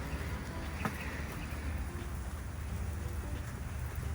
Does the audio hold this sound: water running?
no